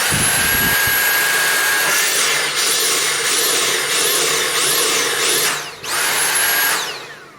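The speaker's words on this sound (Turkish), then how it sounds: "Bugün Dyson süpürge tamir edeceğiz" High-pitched motor whine of a Dyson SV-10 cordless stick vacuum with an intermittent cut-out fault, surging and dipping in repeated waves, cutting out briefly, then revving back up before winding down.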